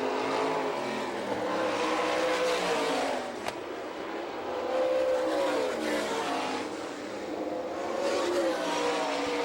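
Sprint race cars from an All Star Circuit of Champions event at Hartford, Michigan roar around a dirt oval, engine notes swelling and fading as cars pass, loud and continuous with trackside crowd ambience.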